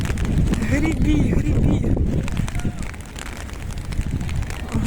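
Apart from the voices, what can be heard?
strong wind while kayaking in Dublin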